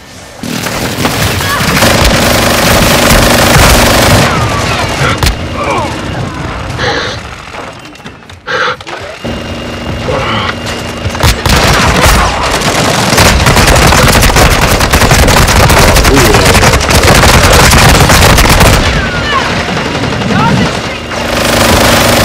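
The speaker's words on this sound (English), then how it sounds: "Hostile precision airstrike" Call of Duty: Modern Warfare II battle erupts loudly with a precision airstrike's explosions and rapid machine-gun fire, dense and continuous with a brief lull midway, under occasional voices.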